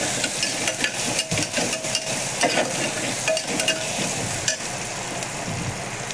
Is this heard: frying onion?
yes